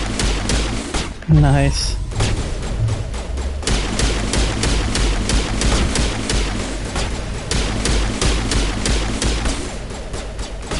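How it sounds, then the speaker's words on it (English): Pistol fire in Mass Effect Legendary Edition comes in a rapid string of close, punchy shots spread across the stretch, with a brief spoken remark early on. "Hang on, let's try our pistol out."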